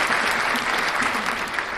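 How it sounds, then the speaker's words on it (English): A burst of applause from a small group, dense and even clapping that holds steady and close for under two seconds with no talk over it. "Round of applause for the thirsty daddy"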